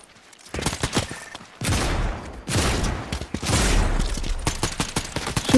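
Gunfire in a Fortnite match: loud, close bursts of rapid automatic shots in several long volleys with short pauses between them.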